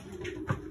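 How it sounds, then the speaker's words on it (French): A racing pigeon cooing indoors, a short low throaty coo near the end over a steady background hum, close by and fairly soft. "va nous présenter le premier pigeon qui est arrivé"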